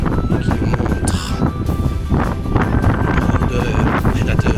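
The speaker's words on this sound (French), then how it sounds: "Le petit vent est un farceur qui s'amuse" Outdoor wind buffets the microphone in loud, continuous gusts, a rough low rumble that swells and eases slightly without letting up.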